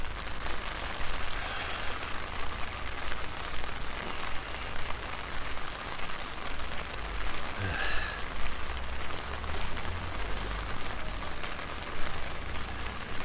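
Steady broadband rain hiss surrounds someone walking outdoors between Takao Station and Shinjuku, continuous and fairly loud with no talking.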